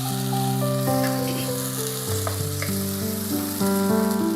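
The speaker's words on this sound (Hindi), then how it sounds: "तब हम इसमें चिकन डाल के फ्राई करेंगे।" Chicken frying in a pan crackles and sizzles steadily close by, under a loud layer of sustained musical tones, with no speech.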